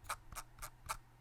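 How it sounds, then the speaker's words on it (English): Logitech G Pro X Superlight wireless gaming mouse, four light, evenly spaced clicks, close and quiet with no talking. "Right and left click. Scroll wheel."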